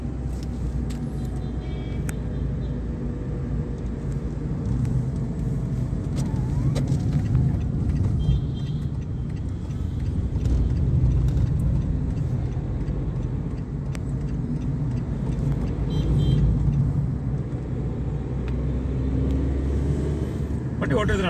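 A Tata Nexon, a used car, is driven with a steady low engine and road rumble throughout the cabin, while someone speaks over the drive.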